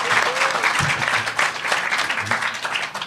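A live audience at the Contact in the Desert 2017 event breaks into sustained applause, a dense wash of clapping that swells and dips slightly, with no talk over it.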